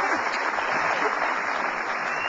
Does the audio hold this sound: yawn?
no